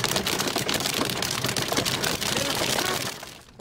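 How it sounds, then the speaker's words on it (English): Hail pelts down in a heavy hailstorm during a stage of the Dauphiné cycling race in France, a dense, steady drumming patter on the road and surroundings that eases off at the very end. "Riders and spectators ducked for cover on the side of the road as the hail pelted down"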